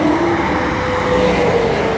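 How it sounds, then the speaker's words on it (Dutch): Busy highway traffic on the road between Hulst, Zaamslag and Terneuzen in the Netherlands, heard as a continuous close roar of vehicles with a passing engine whine rising and falling, no talking. "Dus zoals je ziet, redelijk druk verkeer."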